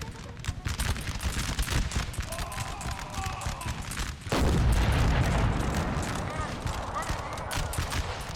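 Napoleonic-era battlefield artillery in Napoleon: Total War, with cannon blasts and crackling volleys of musket fire throughout and a heavy boom hitting midway that leaves a deep rumbling roar.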